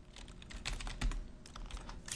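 Rapid typing on a computer keyboard while working in Adobe After Effects, a steady run of soft, close key clicks with no voice.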